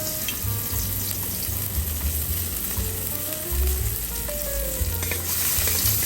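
Garlic and onion sizzle steadily in hot oil in a pan as squash cooks, a close, continuous frying crackle with occasional stirring scrapes and no voices.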